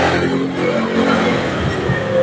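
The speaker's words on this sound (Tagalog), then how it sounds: "Mga tricycle mga idol." A motorized tricycle's engine drones steadily nearby, a continuous rough mechanical hum with slight swells in intensity and no talk over it.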